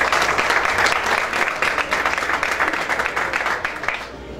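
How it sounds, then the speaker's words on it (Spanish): Warm crowd applause at a press conference in a New York City lounge, loud and close, a dense clatter of hands that gradually thins and fades toward the end. "Un aplauso, por favor."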